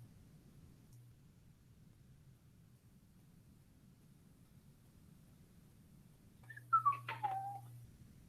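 A man whistles a short wavering tune near the end, preceded by several seconds of low background hum and quiet room noise.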